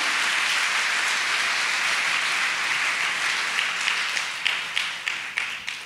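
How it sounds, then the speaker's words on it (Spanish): Church congregation applauding, a dense sustained roar of clapping that thins toward the end into scattered individual claps, loud and filling the room, with no voices. "Si le vas a aplaudir, apláudele"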